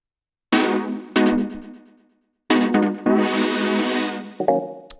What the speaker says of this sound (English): So these are just 3 different chord stabs.